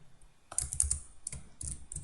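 Fingers type on a computer keyboard, entering a MySQL command, in two short bursts of quick, close, quiet key clicks separated by a brief pause.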